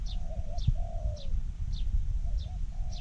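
A spotted dove coos repeatedly in soft, rolling phrases, mixed with brief higher chirps from other birds outdoors over a steady rumble.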